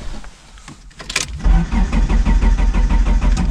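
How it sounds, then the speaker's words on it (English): A 1998 Dodge Neon SRT-4 brought out of storage with a starter cranking the engine, loud close rhythmic chugging pulses that follow a short whine and persist without the engine catching. "Try it again, just to make sure the starter's working."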